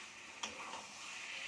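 Chicken braising in a pan with cardamom and garam masala for biryani: a soft, steady sizzle with one brief stir or scrape, heard close but faint.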